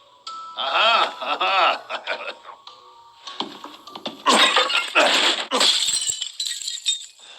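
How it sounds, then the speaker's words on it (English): Objects smashed with a knife in a Resident Evil video game: a run of sharp glassy breaks and clinks, several loud crashes bunched toward the end, mixed with game effects and a few voice-like sounds. "Smash away with your trusty knife"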